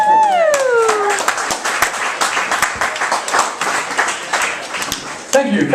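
Audience applause at a small live rock show, a dense steady wash of clapping that follows the end of a song as its last sung note trails off, with the crowd cheering throughout.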